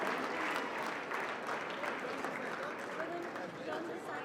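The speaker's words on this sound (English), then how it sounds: "A big round of applause for Shrevan, please" Audience at a North South Foundation finals award ceremony applauding a prize winner, continuous moderate clapping from a crowd, with some voices under it.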